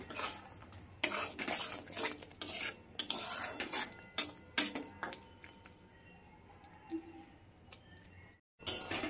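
A utensil scrapes and clinks against a pan while mustard-poppy rohu fish gravy is stirred, in quiet, irregular bursts with pauses between strokes and no talking.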